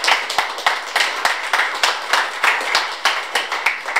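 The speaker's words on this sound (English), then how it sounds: "let's give them a round of applause" Audience applause at a live tech security meetup, a small crowd clapping steadily with distinct individual hand claps, close and fairly loud throughout.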